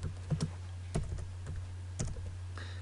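Computer keyboard typing while drafting in AutoCAD: a handful of sharp, separate key clicks spaced out at irregular intervals, close and fairly quiet over a steady low hum, with no talking.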